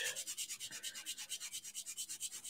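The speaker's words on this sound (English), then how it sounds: "If you don't recognise these sanding sticks, they are Flory model sanding sticks." A model kit for an Sd.Kfz.251/20 Ausf D is rubbed with Flory model sanding sticks, giving a steady rhythmic rasp of quick back-and-forth strokes, close and fairly quiet, with no talking.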